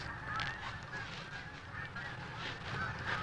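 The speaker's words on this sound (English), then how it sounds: "Geese." Flock of geese honking overhead outdoors, a steady chorus of repeated nasal honks overlapping throughout, moderately distant and fairly faint, with no talking.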